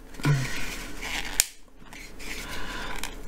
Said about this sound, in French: ça craque toujours, ça c'est sûr, ça craque bien